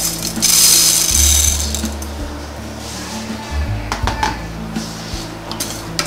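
Three kinds of lentils dry roasting together in a pan, with a steady scrape and rattle of stirring and a few sharper clinks against the metal, fairly loud and close.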